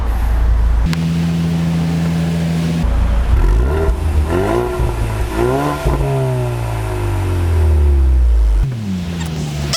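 A 2020 Ford Mustang 2.3 EcoBoost with the High Performance Package, heard close and loud as it idles and then revs up and down several times, its engine note rising and falling, with no talk.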